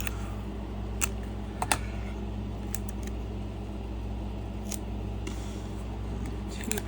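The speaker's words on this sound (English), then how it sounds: "So I just have Scotch tape. Let's get rid of the first piece" Scotch tape is pulled from a roll and torn close by, giving a few brief sharp rips and clicks over a steady low room hum.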